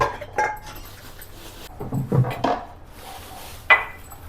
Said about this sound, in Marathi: मी सगळी निघालेली भांडी घासून घेते